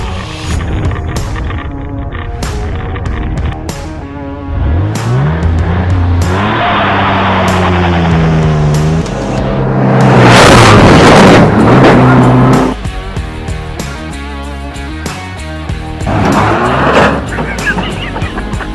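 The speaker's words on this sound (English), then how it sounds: "So here we go with the launch of the Dakota." A Dakota truck launches hard on a race track, engine roaring and revving up through the gears with rising pitch, tires squealing, loud and close as it charges down the straight.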